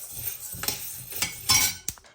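A utensil stirs urad dal roasting in a pan, giving a few scattered scrapes and light metallic clinks at close range with quiet gaps between them.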